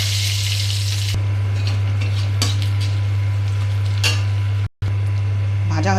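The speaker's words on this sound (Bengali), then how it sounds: "আমি এখন কড়াইতে শুকনো লঙ্কা, আদা বাটা, জিরা আর হচ্ছে তেজপাতা দিয়ে ভাজা করে নিচ্ছি" Dry chilli, ginger paste, cumin and bay leaf frying in oil in a kadai, a steady hiss with light clinks of a utensil against the pan and a strong low hum running underneath.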